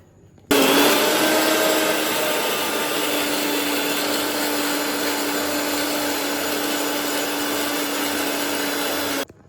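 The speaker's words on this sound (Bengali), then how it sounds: "এটা সব মিক্সার গ্রাইন্ডারে দিয়ে আমরা জাস্ট ঘুরিয়ে নেব।" A mixer grinder runs steadily at close range for about nine seconds, blending cashews, chilli and curd into a paste for a Hyderabadi green chicken marinade. The motor whine stays loud and unbroken throughout, with no talking.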